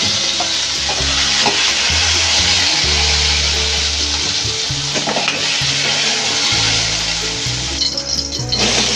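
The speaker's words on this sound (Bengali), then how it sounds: "এই তেলে ঝিঙাটা একটু ভেজে নেব।" Ridge gourd fries in hot oil after potatoes, with a close, dense crackling sizzle and frequent scraping and stirring knocks from a utensil in the pan throughout.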